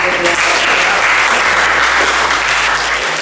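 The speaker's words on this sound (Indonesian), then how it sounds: "beri tepuk tangan" A classroom of vocational automotive-engineering students applauds together, a dense, steady clatter of clapping at close range that holds for about three seconds before cutting off.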